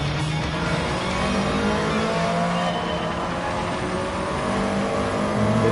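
Stock-engine Nissan S14 Silvia in Gran Turismo 7 driving on a wet track in the rain, its four-cylinder droning steadily with rising and falling revs and a hiss of spray throughout, no talking.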